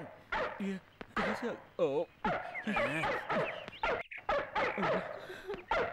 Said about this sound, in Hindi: ये तो कुत्ते की आवाज है।